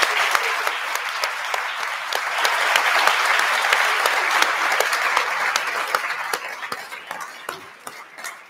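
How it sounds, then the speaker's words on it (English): A conference audience gives the panelists a sustained round of applause, dense and steady, swelling slightly in the middle and thinning toward the end, with no voices over it. "please help me give our panelists a round of applause"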